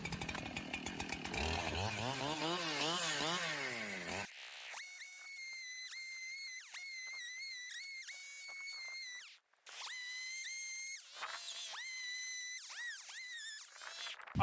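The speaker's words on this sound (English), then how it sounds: "we'll start doing some more sanding on him with the chainsaw" A chainsaw carves and sands a large wooden bear, starting with rough buzzing cuts and then settling into a high, whining engine note that rises and falls in repeated bursts with short pauses.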